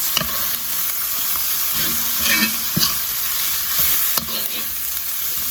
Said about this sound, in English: And then I'm just going to stir all these in here a little bit